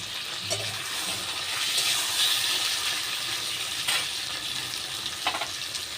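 Tomatoes with ginger, green chilli and dried chilli paste fry in a pan for a bhola fish curry, a loud, steady close sizzle with a few brief stirring scrapes.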